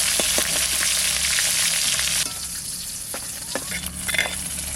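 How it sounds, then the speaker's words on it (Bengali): River Baush fish crackles and sizzles in hot oil as it fries until reddish, a dense close hiss broken by scattered pops, easing slightly partway through. "লাল করে ভেজে নিচ্ছি।"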